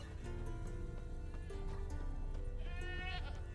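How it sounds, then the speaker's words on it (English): A goat bleats in The Witcher 3 amid ambient game sound and music, its wavering cry rising clearly near the end of the moment. "I hear a goat."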